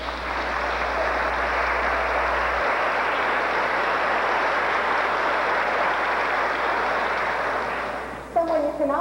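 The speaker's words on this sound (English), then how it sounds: "Go ahead and applause." Audience at the 1987 Marshall County Jr. Miss pageant applauds the choreographer, a steady, dense wash of clapping that holds evenly for most of the stretch and fades near the end.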